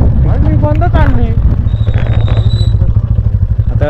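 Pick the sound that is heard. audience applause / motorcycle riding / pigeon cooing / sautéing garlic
motorcycle riding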